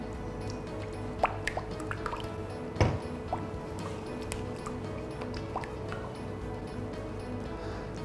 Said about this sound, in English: As we continue to mix the chocolate